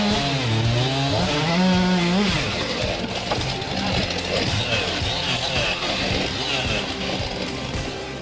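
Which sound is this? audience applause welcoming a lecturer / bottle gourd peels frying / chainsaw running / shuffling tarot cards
chainsaw running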